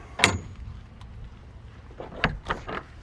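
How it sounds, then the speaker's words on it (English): Heavy duty spring-assisted rear ramp door on a 2026 Rock Solid Cargo 8.5x20 trailer, giving a sharp metallic clank, then a quieter stretch and a second clatter with a few rattles, heard close with no talk. "Heavy duty rear ramp door."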